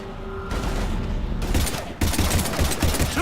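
Rapid bursts of gunfire ring out in a Mass Effect 3 battle, dense and continuous, with sharp volleys overlapping over a rumbling low background.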